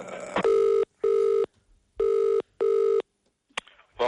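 A telephone line to a customer service number rings back in a loud, clear pattern of paired tone bursts separated by silence, followed by a faint click as the call is picked up.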